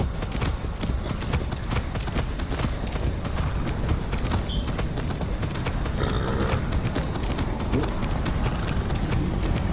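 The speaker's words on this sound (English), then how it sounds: "Taking a white horse to see Sheriff White Horse's jail" Rhythmic clip-clop of a horse's hooves in the video game Far Cry 6, trotting steadily and evenly, fairly close, over a constant background hum.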